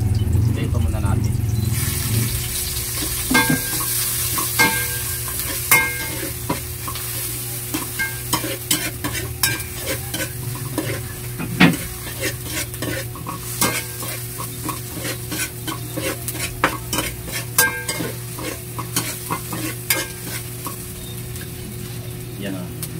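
Tilapia innards, the bile sac and intestines, sizzle and fry in a pan for papaitan, a steady hiss broken by frequent clicks and scrapes of a utensil stirring close by.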